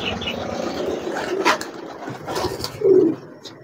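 Pigeons coo and flutter close by as they are released from a seller's flock, with soft wing flaps and a clear coo near the end amid low background murmur.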